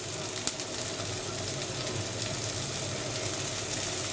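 Onion and dried red chili frying in a pan for an egg mash dish: a continuous, moderately loud sizzle with soft crackles and occasional small pops, steady throughout and without talking.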